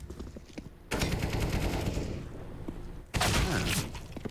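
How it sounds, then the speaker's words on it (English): Desert Eagle pistol shots in a Counter-Strike pro match on the Vertigo map, loud bursts of gunfire in two dense, crackling volleys separated by a brief quieter stretch. "Nice shot there from dupreeh's Deagle."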